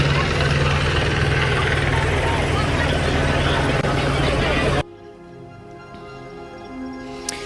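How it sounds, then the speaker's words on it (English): A steady, loud helicopter-like drone with rhythmic rotor chop fills the first part, then cuts out abruptly to a quieter background with faint sounds. "A helicopter overhead"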